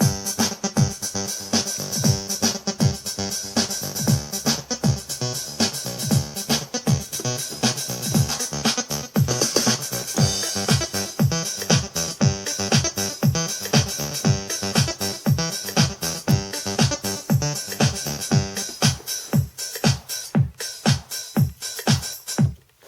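A keyboard synthesizer plays a dense, steady sequencer pattern of rapid rhythmic pulses with a sustained bright tone, running loud and unbroken for the whole stretch with no talking.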